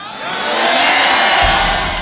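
A church congregation breaks into loud shouting and cheering, a swelling roar of many voices with whoops that holds steady.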